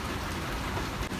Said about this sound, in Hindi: तो ये आप देखें तो बारिश जो है ना वो काफ़ी स्पीड से हो रही है।